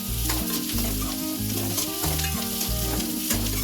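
Crushed garlic cloves sauté in oil for a crab gravy, giving a steady close sizzle with stirring, while background music plays over it.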